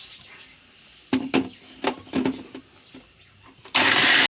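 Coconut pieces with a little water are ground in a kitchen mixer grinder for coconut milk. A few knocks and taps come first, then the motor bursts into a loud, dense whir for about half a second at the end.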